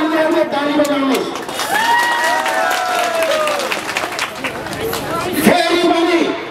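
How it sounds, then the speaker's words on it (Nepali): Large crowd at an outdoor political rally for Nepal's prime minister in Dailekh clapping and cheering loudly, a dense sustained wash of applause with shouts, while someone speaks over it through the loudspeakers. "छोड्दैनौँ भन्नेहरूले ताली बजाउनुहोस्।"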